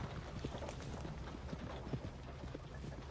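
A horse's hooves clip-clop steadily on the ground in Red Dead Redemption 2, a quick even rhythm of hoofbeats carrying through the whole stretch at moderate loudness with no talk.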